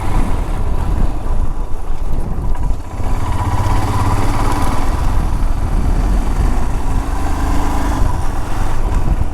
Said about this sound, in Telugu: వీళ్ళందరూ లదాఖ్ రెంటల్ బైక్ బ్యాచ్.